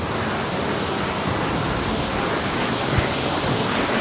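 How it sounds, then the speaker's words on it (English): Strong seaside wind roars steadily across the microphone at Kato Paphos, Cyprus, mixed with a broad wash of surf, with no voices. "It is very windy."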